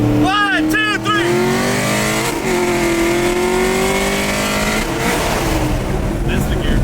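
A Camaro and a Mustang accelerate hard while racing, one engine revving up through rising tones with a loud, close roar that holds steady before a gear change, the sound filling the whole clip.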